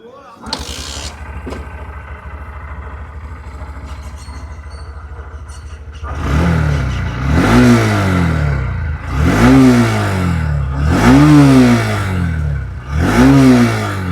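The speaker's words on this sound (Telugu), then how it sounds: "ఇప్పుడు ఇంజన్ యొక్క నోట్ ఒకసారి చూద్దాం" A 2026 Honda SP125 125cc motorcycle engine idles, then revs up repeatedly in four or five rising bursts, loud and close, each falling back between throttle blips.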